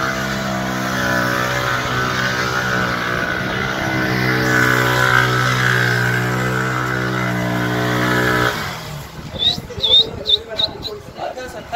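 Lowered motorcycles rumble at a steady, loud drone for several seconds, then the engine note breaks off into sharp, uneven revving bursts with high squeals.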